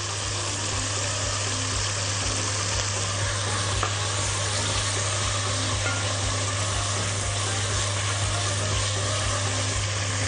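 Tomato sauce hits a hot pan of chicken browned in ghee and oil, giving a steady, loud, unbroken sizzle and frying hiss with no talking.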